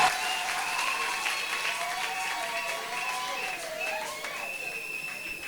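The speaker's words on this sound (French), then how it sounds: "Est-ce qu'on peut applaudir pour les frères?" A church congregation claps during a Sunday school skit, a moderate, continuous patter of hands with tonal background sounds and gliding pitches underneath.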